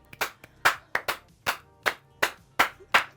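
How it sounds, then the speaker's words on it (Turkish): A burst of applause: a handful of distinct claps spaced out at an uneven rhythm, fairly close and crisp, with no voices. "Buraya alkış lütfen."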